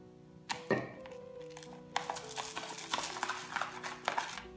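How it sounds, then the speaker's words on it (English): A spoon stirs rice mixed with blue food colouring in a bowl, giving quiet scraping and rattling with soft clinks against the bowl, uneven and close. "Once that's stirred evenly"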